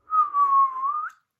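A single person whistles one sustained, slightly wavering tone for about a second, ending with a brief upward lift, close and clear with no talk.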